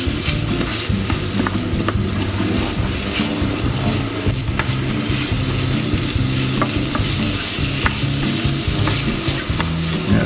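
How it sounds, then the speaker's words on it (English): A cup of rice fries in oil in a pan for risotto. The sizzle is loud and continuous, with scraping stirring strokes throughout and no voices. "you want to sort of fry the rice a little bit"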